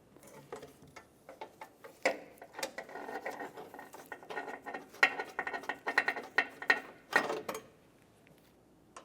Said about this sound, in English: Now we can start in each of our 3 mounting bolts for the headlamp assembly to the bracket.